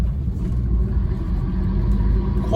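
A 1992 Fiat Uno hums along at a steady cruise, its engine and road rumble forming a constant, fairly loud low drone heard from inside the car.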